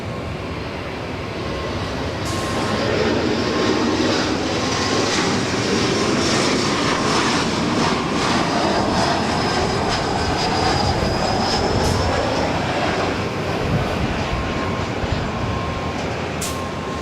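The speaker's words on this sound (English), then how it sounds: "the KLM, the first KLM flight here today, the Dreamliner, heading to the south side for an arrival" A KLM Boeing 787 Dreamliner airliner approaching to land at LAX, its engine noise a broad, steady roar that holds loud and unbroken throughout, with no talk over it.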